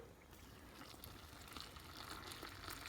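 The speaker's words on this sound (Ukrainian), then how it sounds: "Вливаємо водичку" Water pours steadily into a pot of broccoli, potato and leek soup in a home kitchen, a soft continuous splashing fill that stays faint and even throughout.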